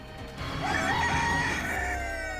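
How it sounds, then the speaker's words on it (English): A rooster in a neighbour's chicken-filled yard gives one long, full crow over a low outdoor background, fairly loud and carrying, with no talking. "their garden bordered a neighbour's yard that was overrun with chickens"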